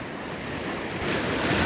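Sea waves rolling in on the shore during a fishing outing, a steady broad wash of surf that swells louder toward the end, mixed with wind buffeting the microphone, no voices.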